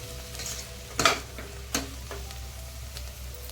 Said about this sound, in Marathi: कांदा एकदम छान ट्रान्सपरंट आणि मऊ झाला आहे एकदा त्याला हलकस ढवळून घेऊया